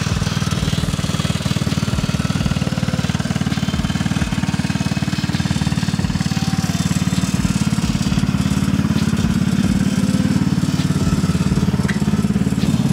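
A Carbide 7150 go-kart engine runs steadily and loudly up close for the whole stretch, with a rapid low rumbling pulse and no talking.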